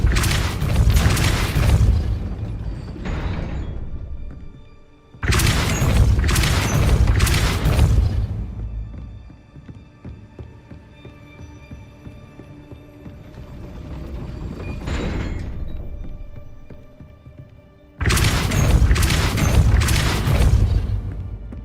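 Heavy magical blasts from the Depulso spell in Hogwarts Legacy, three loud booming bursts with mechanical clanks and rumbles, separated by quieter stretches of low ambient hum.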